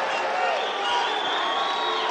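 Fans cheer across the arena at a 2012 South Dakota State A high school wrestling tournament during the 120-pound championship, a continuous, fairly distant roar of crowd noise that stays steady throughout.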